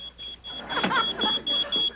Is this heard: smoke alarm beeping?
yes